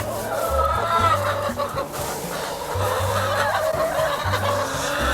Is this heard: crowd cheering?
no